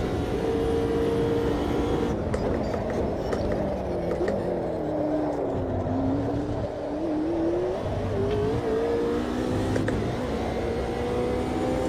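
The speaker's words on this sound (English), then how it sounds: "I'm in the McLaren GT3" A McLaren GT3 720S race car engine in AMS2 at Sebring, droning loudly and steadily with rising and falling revs through gear changes, held close throughout with no pauses.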